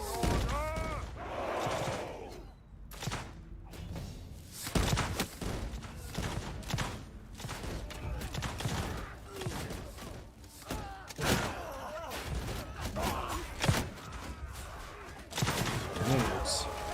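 Grenades bursting in a musket-era battle in Mount and Blade II: Bannerlord, with repeated booming thuds and scattered gunfire spread through the fight, mixed with shouting soldiers and voices talking over the din.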